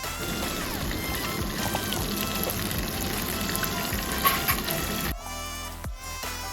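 Marinated fish fries in hot oil with a steady, crackling sizzle that holds throughout, then briefly drops and shifts as the pan is disturbed near the end.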